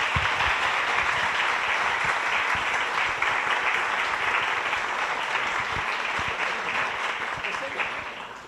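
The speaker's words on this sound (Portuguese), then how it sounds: "pedir uma salva de palmas para quem fez o encontro aí" Applause from an audience at a political seminar fills the room, a sustained wash of clapping that holds steady and begins to fade toward the end, with voices faintly mixed in.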